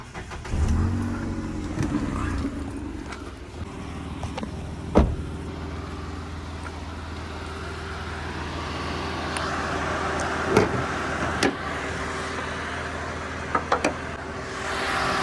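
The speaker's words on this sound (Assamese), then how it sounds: "ইঞ্জিনটো এবাৰ মই ষ্টাৰ্ট কৰিয়ে দেখাই দিওঁ আপোনালোকক" A used Datsun redi-GO 1000cc hatchback with 22,000 km on it idles steadily and fairly close, with a few sharp clicks and knocks around the car over the engine's low hum.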